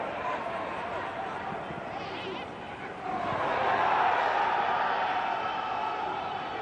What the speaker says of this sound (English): Ghanaian supporters in the crowd making plenty of noise every time they get into the final third